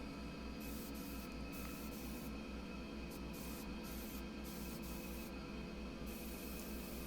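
Paint or primer sprayed onto a Thomasville wooden dresser: a steady, faint, hissing spray that runs continuously throughout, with a low pulsing hum beneath and no voices.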